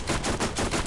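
Rapid automatic gunfire from a turret in the video game Borderlands, a dense, loud burst of repeated shots filling the whole moment with no voices over it.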